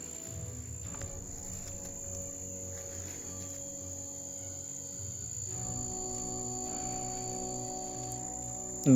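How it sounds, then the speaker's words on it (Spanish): Grasshoppers on Cerro Betete, Uruguay, chirp in a steady high-pitched trill that carries on throughout, faint and constant against a quiet background. "Saltamontes."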